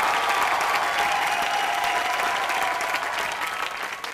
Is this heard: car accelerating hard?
no